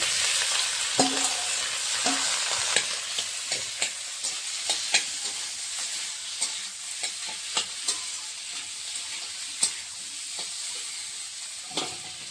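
Garlic, green chilli and boiled potato frying in a pan while a spoon stirs them, a steady sizzle broken by regular clinks and scrapes of the utensil, close and alone with no talk.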